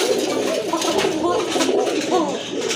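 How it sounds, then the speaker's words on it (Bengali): A pair of pigeons, a male and a female, coo repeatedly at close range in rolling, overlapping calls, with steady background murmur throughout. "এই যে দেখেন ডাক আছে কবুতর মাশাআল্লাহ, ভালো ডাকবে ইনশাআল্লাহ"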